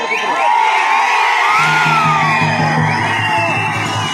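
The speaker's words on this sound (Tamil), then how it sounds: "எழுச்சிமிகு ஆரவாரம்." A large crowd at a political rally in Pudukkottai cheers and shouts loudly and continuously, a dense roar of voices with whoops and yells, a low sustained tone joining partway through.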